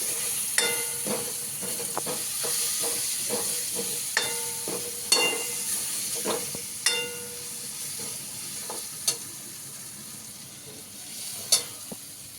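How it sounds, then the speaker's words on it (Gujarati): Pasta gravy simmers in a pan, a steady sizzle and hiss broken by sharp scraping clicks of a spoon stirring every second or so, close and alone. "હવે લાગે છે આપણી ગ્રેવી તૈયાર થઈ ગઈ છે"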